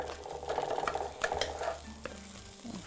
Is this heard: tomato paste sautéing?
yes